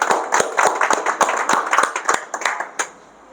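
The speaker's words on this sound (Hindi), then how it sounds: "सबसे पहले तो इनके लिए एक ज़ोरदार तालियां हो जाए।" A small audience at a motivational talk claps loudly and close by, with distinct individual hand claps in a quick uneven rhythm that thin out and stop after about three seconds.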